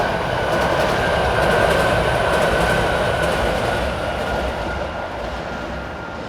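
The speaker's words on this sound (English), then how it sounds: "oh look, there's a metro" A Miami Metrorail metro train passes close by as a loud sustained roar of wheels on rails, with a faint high whine and rhythmic clatter that eases slowly as it moves away.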